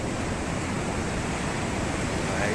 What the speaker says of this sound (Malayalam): ഭയങ്കര തിരമാലയാണ്.